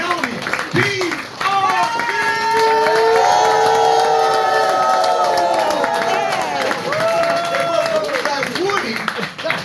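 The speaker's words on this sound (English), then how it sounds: "Ladies and gentlemen, please clap it out right now for the one, the only" A comedy venue crowd roars with cheering, whoops and clapping for a stand-up performer, loud and sustained throughout, with a host's voice shouting over the noise.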